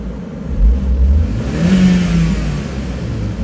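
A Hyundai Veloster engine, mid-rebuild after an oil pump replacement, revs up briefly as the gas is pressed, a close low droning swell that rises and eases back within a few seconds.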